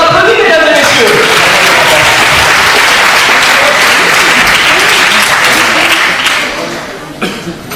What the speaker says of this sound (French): On l'applaudit, mesdames et messieurs